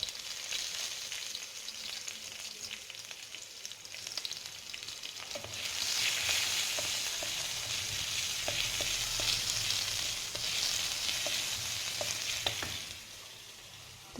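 Onion fries in hot oil in a kadai on low heat, a steady close hiss that swells louder midway as stirring scrapes and light taps come through, with no voices.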